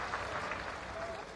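At a closing ceremony of a university sports games, an audience applauds the athletes with a dense, steady patter of clapping heard from some distance, brief and moderately quiet.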